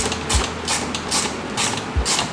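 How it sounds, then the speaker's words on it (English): Screws are backed out of a Suzuki DRZ motorcycle with a hand tool, giving a series of sharp ratcheting clicks and scrapes in quick, uneven bursts, close and fairly loud. "Just pull out the two screws on top of here."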